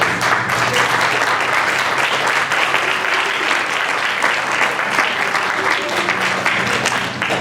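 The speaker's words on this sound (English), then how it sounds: "we need to give our teachers all an applaud" Rally audience applauding teachers, a sustained, even wash of many hands clapping at close range, steady and loud from start to finish.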